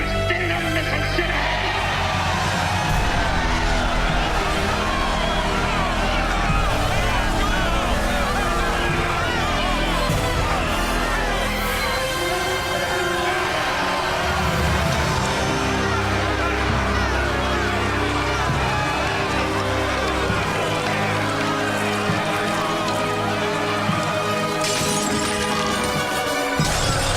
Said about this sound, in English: It's a massive riot.